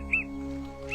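A father bird calls in the wild, two short high calls, one near the start and one at the end, over a steady low background hum.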